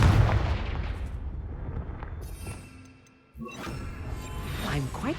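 A Confringo spell blast cast in the Hogwarts Legacy video game, a sudden forceful burst that strikes partway through, surrounded by dense, rumbling in-game action noise.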